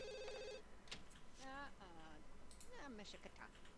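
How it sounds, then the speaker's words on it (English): A telephone trills in The Sims 2, a short electronic ring burst at the start, followed by babbling Simlish-style voices talking over it. "so the phone is ringing"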